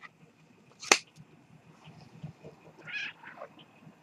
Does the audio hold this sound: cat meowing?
yes